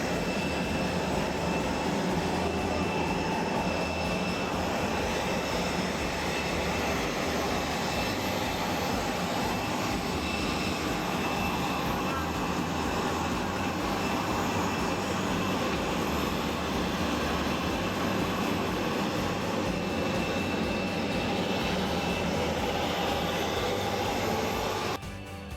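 An airplane's engines drone steadily while passengers board the flight, heard from inside the cabin as a loud, unbroken hum.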